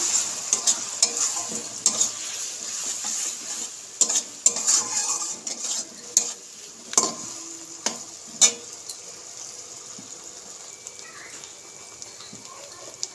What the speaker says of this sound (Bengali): আদা রসুনটা একটু ভেজে নেব।